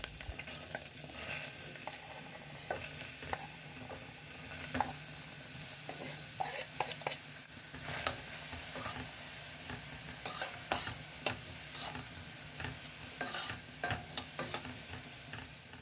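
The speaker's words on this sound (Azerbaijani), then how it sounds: "Plovu bişirəcəyim qazana 2 xörək qaşığı kərə yağ əlavə edib, soğanları rəngi biraz dəyişənə qədər qovururam" Onions frying in butter in a pot for plov, a soft continuous sizzle broken by occasional stirring scrapes, close up and fairly quiet, with no talking.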